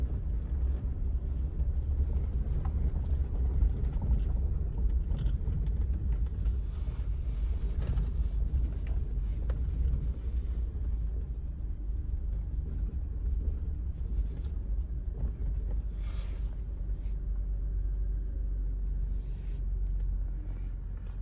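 Steady low rumble from a 2000 Toyota 4Runner's 5VZ engine idling in drive, with a fuel-trim fault (P0172), heard close and continuous with some wind noise over the microphone and no talking.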